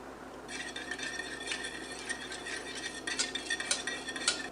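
A utensil stirs wet cookie ingredients in a bowl, giving quick repeated scraping and light clinking against the sides, close and fairly quiet, with no talking.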